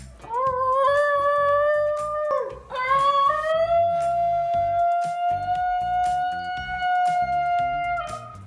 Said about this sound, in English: these canine crooners serenade with a unique sound known as a baroo.